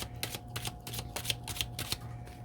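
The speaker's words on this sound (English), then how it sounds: "I have a tendency when I'm shuffling the cards, you know, they just kind of go everywhere" Tarot cards being shuffled by hand, a quiet series of quick riffling bursts in an irregular rhythm, close and soft, with no talking.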